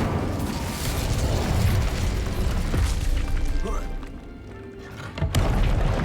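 An Incendio fire spell cast in Hogwarts Legacy, heard as a dense, loud whooshing burst of fiery crackle and rumble. It dips quieter for about a second, then surges back with a sharp hit near the end. A voice speaks over part of it.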